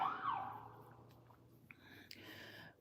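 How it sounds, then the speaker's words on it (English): An ambulance siren wails right outside at first, then fades as the ambulance pulls off, leaving faint clicks and background hum. "It's an ambulance right outside."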